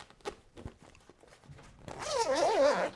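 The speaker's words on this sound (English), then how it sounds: "so there's 4 zips all together." A zip on a care bed's mattress cover is pulled open in one quick, rasping run near the end, after a few soft handling taps and rustles close by.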